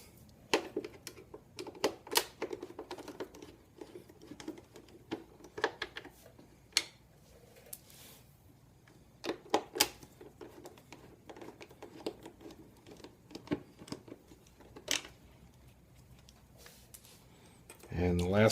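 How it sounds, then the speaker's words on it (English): Screws being removed from the airbox cover of a Yamaha FJR 1300 motorcycle, a series of faint, irregular close clicks and ticks from the tool, with a louder clunk at the end. "Just take the screws out."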